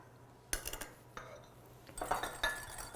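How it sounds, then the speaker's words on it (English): Cocoa and sugar being whisked in a bowl for a hot fudge cake, heard as bursts of metal-on-bowl clinking and scraping in two clusters, fairly close and moderately loud, with no talking. "I'm going to mix up the cocoa and the sugar."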